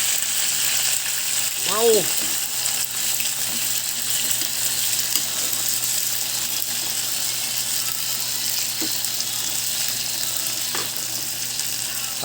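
Shrimp sizzle and fry in a pan, a steady, close hiss of hot oil that runs the whole time, with a brief exclamation from a voice over it.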